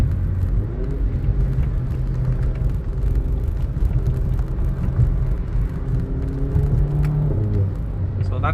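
Steady low rumble of a VW Golf 7.5 GTI cruising on the road, heard from inside the cabin, with someone talking over the engine noise.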